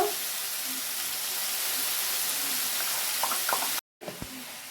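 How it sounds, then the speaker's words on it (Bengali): Potato and broccoli with onion frying together in a pan, a steady broadband sizzle filling the clip, with a few soft knocks and stirring taps near the end and a brief gap of near silence. "আলুটা ব্রকলিটা আমি একসাথে দিয়ে ভেজে নিচ্ছি"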